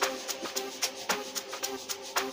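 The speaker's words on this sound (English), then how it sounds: "my other instrument I used here is the FX 3 wave" FX 3 wave effect playing in an amapiano beat made in FL Studio Mobile, a washy swelling tone over regular percussive hits at a steady rhythm, fairly quiet with no talking.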